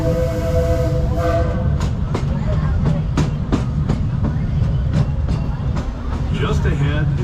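Disneyland Railroad train rolling along the rails, a steady low rumble with regular rhythmic clacks while a recorded announcer speaks over it.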